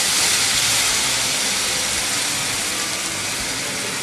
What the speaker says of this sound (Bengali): কষানো হয়েছে, এতে আমি জল দিয়ে দেব।